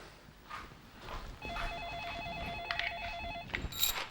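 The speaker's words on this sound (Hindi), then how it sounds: "यशोदा जरा फोन लेना" A telephone rings with a warbling electronic trill for about two seconds, amid faint room noise and a few soft clatters nearby.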